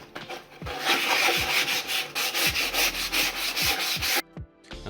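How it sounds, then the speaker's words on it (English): Steady rhythmic scraping of sandpaper against wood, repeated back-and-forth strokes close up, loud and continuous before stopping abruptly near the end. "Now all we have left is to do some sanding on the corners"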